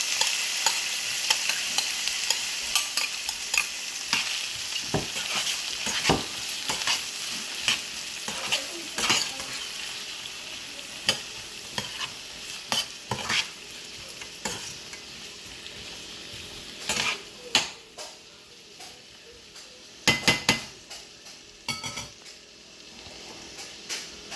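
Mixed vegetables stir-fried in a hot pan for fried noodles, a steady sizzle with repeated scraping and clattering strokes of the spatula, the frying gradually quietening as the stirring continues.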